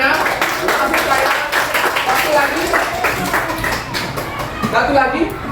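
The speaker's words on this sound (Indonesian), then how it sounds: "berikan tepuk tangan ya" Classroom applause for a student after a presentation: a run of rapid, uneven hand claps from a group of pupils, fairly close and moderately loud, mixed with children's voices talking throughout.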